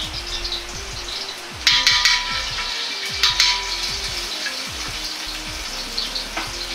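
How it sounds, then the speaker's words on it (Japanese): Doubanjiang chili bean paste sizzles as it is stir-fried in oil in a wok, a continuous close crackle broken by repeated scraping and stirring strokes, with no talking. "下地の油を鍋に混ぜ、豆板醤、小さじ1小を入れ炒めます。"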